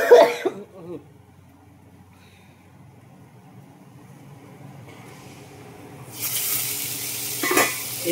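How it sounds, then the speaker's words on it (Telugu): Snake gourd fry in a pan, fairly quiet through the middle after a louder clatter and throat-clearing cough at the start, then a bright, loud sizzle swells up near the end. "మన పొట్లకాయ ఫ్రై అయితే వేగిపోయింది"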